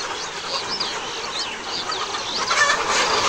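Layer pullet hens cluck and squawk steadily in a close, dense flock, with rising calls and no voices.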